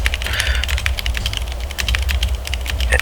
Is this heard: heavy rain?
no